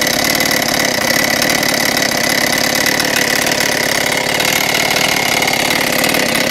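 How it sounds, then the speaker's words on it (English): A 49cc scooter engine idles steadily up close, a loud, buzzing, even drone with a fast regular pulse and no speech. "Alright, so this is just at an idle right here."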